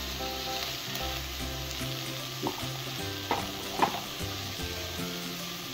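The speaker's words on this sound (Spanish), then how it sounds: "Lo que voy a hacer es revolver, ahora que ya se ha dorado ahí un poquito de la chía especial, entonces ya lo revuelvo." Browned food is stirred in a hot frying pan while cooking fish escabeche with peppers, producing a steady sizzle with a few scraping stirs over soft background music.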